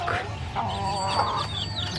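Several chicks about 25 days old cluck and chatter close by, a busy overlapping run of short calls over a low steady background hum.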